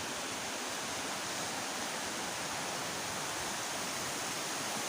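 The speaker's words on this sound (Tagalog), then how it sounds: "lakas ng agos ng tubig" A strong waterfall on Biliran island roars as a steady, dense, broadband rush of falling water, close and continuous with no voices over it.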